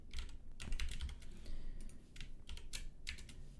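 Quiet, close typing on a computer keyboard, with irregular bursts of key clicks and short pauses between them, with no talking.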